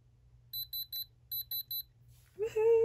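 An electronic gold tester pressed to an earring beeps in two quick bursts of three crisp electronic tones, clear and close, followed by a louder rising sound at the end.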